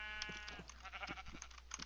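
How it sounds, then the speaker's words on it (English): Sheep in the Minecraft video game bleat softly in short wavering calls, faint and under a low steady hum, with a few light clicks between them. "It even says sheep's baaing in the corner."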